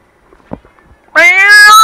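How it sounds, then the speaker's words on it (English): After near silence and a faint click, a loud, close cat meow from the video game Monster Hunter Online rises and holds, high and nasal. "I think I could do a better cat sound."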